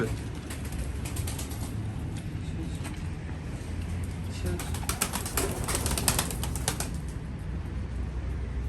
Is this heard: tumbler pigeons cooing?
yes